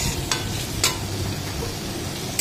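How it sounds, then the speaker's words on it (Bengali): Fried potatoes are stir-fried with spices in a pan for a paneer curry, giving a steady close sizzle broken by a few sharp scrapes and clacks of stirring. "আর পনির তরকারির জন্য আলু ভেজে মশলা দিয়ে এখন ভালো করে কষিয়ে নিচ্ছি।"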